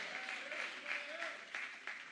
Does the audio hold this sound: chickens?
no